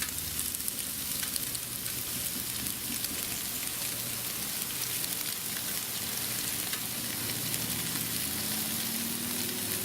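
Chicken sausage sizzles and spatters steadily on a hot Blackstone griddle, a dense, even hiss of frying that runs unbroken from start to finish with no talking.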